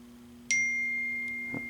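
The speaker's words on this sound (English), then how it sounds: "the phone's going off." A phone going off in a workshop during repair of an Ameritron AL-811H amplifier, a single bright electronic ding or chime that rings on with a sustained tone over a steady hum.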